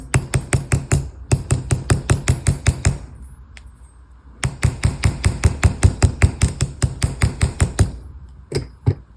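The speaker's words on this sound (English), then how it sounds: "Nylon hammer." Rapid, sharp taps from a nylon hammer striking metal while shaping Art Deco earrings, in two long bursts of steady blows separated by a brief pause, close and loud.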